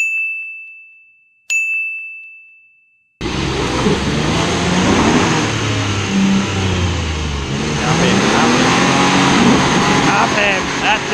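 A car engine revs hard in first gear, loud and sustained with rising pitch sweeps, after two sharp electronic chimes; voices can be heard over the engine noise.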